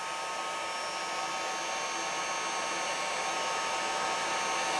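A heat gun used to repair a Macintosh Performa 200 blows close by with a steady, even, hissing roar that holds at constant loudness throughout.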